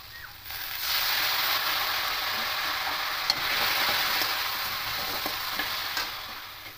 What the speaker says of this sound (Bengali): একটু 2 মিনিট ধরে কষে নেব, যাতে কাঁচা গন্ধটা চলে যাওয়া পর্যন্ত